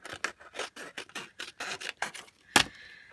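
Scissors trimming blue card to size, a quick series of close, crisp snips in an irregular rhythm ending in one sharper cut.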